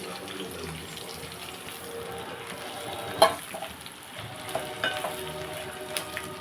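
Semolina upma is stirred in a pan with scraping and occasional clinks of a utensil against metal, over a low sizzling background.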